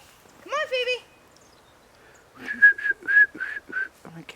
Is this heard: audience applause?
no